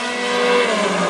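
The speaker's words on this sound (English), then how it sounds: "driving hard towards him is the 6JB of Bryce Bierken, and he's closing that gap" WISSOTA modified race cars roar around a speedway track, a loud, sustained engine drone with steady high-pitched whine, heard close and continuous without speech.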